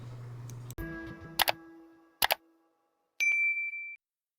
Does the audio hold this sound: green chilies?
no